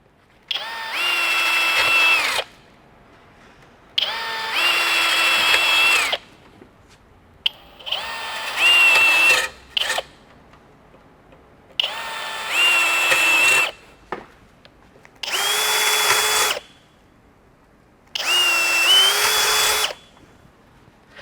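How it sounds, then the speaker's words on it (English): A power drill drills holes in a ladder in six steady bursts of about two seconds each, separated by short pauses, loud and close. "you're going to want to drill out the holes that you marked previously."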